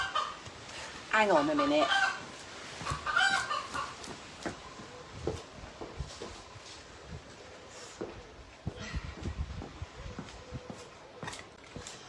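A hen held in someone's arms clucks and squawks loudly in bursts, with occasional crow-like calls, close to the microphone, while a person speaks briefly and moves around.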